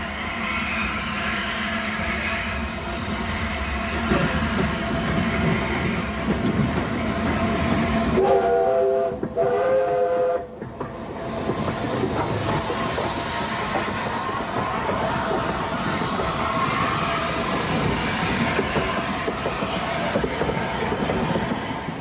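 LNER A2 steam locomotive Blue Peter hauls a special Oxenhope train, a loud continuous rumble and clatter of the passing engine and carriages with a brief whistle near the middle.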